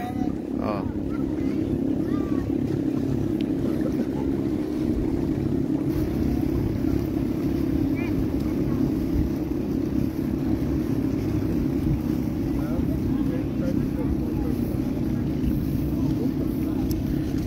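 A bangka boat's engine drones steadily and loudly on the ride to Mantigue Island, a constant close motor hum with a low rumble beneath.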